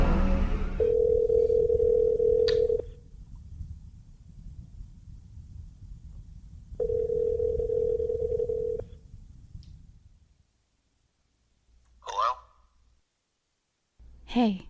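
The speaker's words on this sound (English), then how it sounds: "Lorraine can't fix anything in her house, she makes a phone call to her friend" A telephone in a movie scene gives two long ring-back tones separated by a pause, with quieter short tones and clicks near the end, set against faint low room noise.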